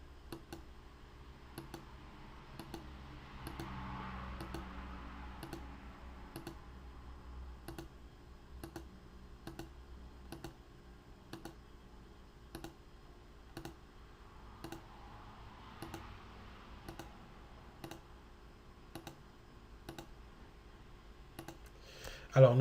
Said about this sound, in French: je vais, sur mon clavier, appuyer sur la touche CTRL et je vais sélectionner les autres régions une par une